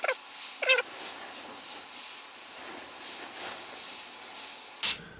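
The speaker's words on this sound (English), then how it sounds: "all I'm doing is following the spray onto the edge of the paint, onto the edge of the tape" A spray can lays clear coat paint along the edge of masking tape in one long steady hiss lasting several seconds, close by, preceded by a couple of short squeaky sounds and ending abruptly.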